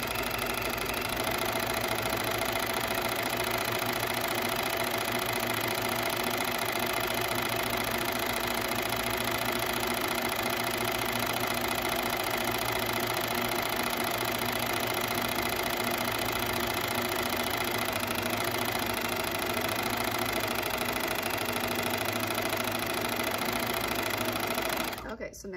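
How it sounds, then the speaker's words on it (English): Sewing machine winding a bobbin, a steady, close, continuous motor whir with a constant pitch, running unbroken for about 25 seconds and cutting off abruptly at the end. "Just wind the bobbin. You can wind it until it stops."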